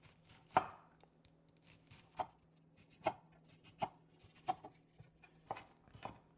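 Knife strikes a cutting board while dicing a vegetable for a marinara sauce, seven or eight sharp, separate chops spaced irregularly, close and crisp over a quiet background.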